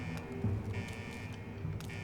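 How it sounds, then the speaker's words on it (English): An electric buzzer drones inside a building in Sugar Grove in Fallout 76, a steady tonal hum with a few sharp clicks and brief pulses layered over it, moderately quiet. "this buzzer is going to get on my nerves"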